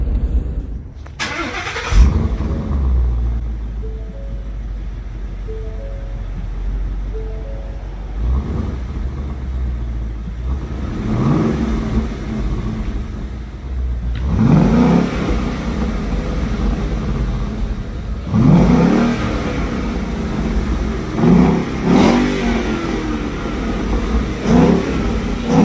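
A Ford Mustang GT V8 on its stock exhaust starts and revs repeatedly in close, loud bursts, each rise followed by a drop back to a burbling idle.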